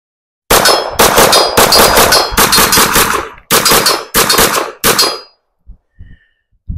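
Dan Wesson DWX Compact pistol fired in a rapid string of about seven loud, sharp shots, each ringing briefly, followed by a few faint clinks of falling brass.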